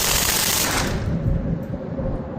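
A gas blowback gel blaster rifle dumps the rest of its magazine in one loud, rapid, continuous burst of shots, close up and with no talking, the firing easing off toward the end.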